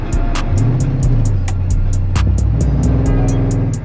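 A Chevrolet Kodiak truck fitted with a Belltech front sway bar drives and accelerates steadily, its engine drone rising in pitch as it pulls without easing off, loud and close throughout with no talk.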